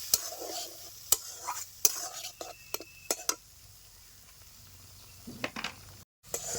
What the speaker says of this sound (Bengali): মশলাগুলিকে আমি ভালো করে কষিয়ে নেব